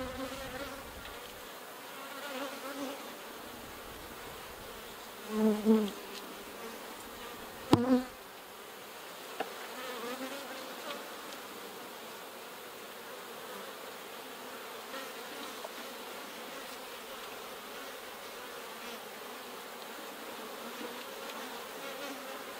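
Honey bees hum steadily in an opened brood-nest hive box during a colony inspection, a dense, continuous buzz with a few brief knocks and clicks from frames being handled.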